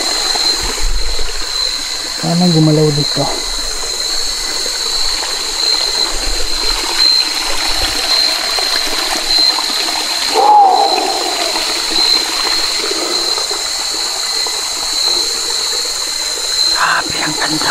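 Water flows with a continuous, moderately loud rushing hiss outdoors, accompanied by a high steady insect-like whine, while a person briefly talks over it.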